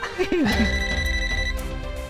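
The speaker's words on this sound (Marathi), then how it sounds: "पप्पांचा फोन." Mobile phone ringing with an incoming call indoors, a clear repeating electronic ring tone sustained steadily at moderate volume with a brief voice sound near the start.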